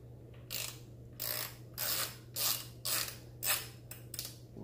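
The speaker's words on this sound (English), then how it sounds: "ratchet" A ratchet wrench clicks through about seven short, evenly spaced bursts of rapid pawl clatter while threading parts on a fast e-bike build, heard close and alone with quiet gaps between strokes.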